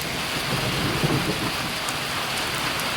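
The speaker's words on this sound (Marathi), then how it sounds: "ड्रमात पडतोय, दिसतोय का पाऊस." Steady close rain beats down, some of it falling into a drum at a village home, with a low rumble of thunder underneath throughout.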